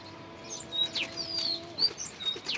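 Pigeons let out of their loft outdoors in the afternoon, with faint, brief chirps and calls over soft background hiss. The sound is quiet and scattered, and no voices are heard.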